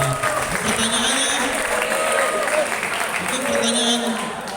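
Students clap together at a Ramadan Islamic school closing program in a Jakarta high school hall, a dense steady applause running the full length with voices mixed in over it.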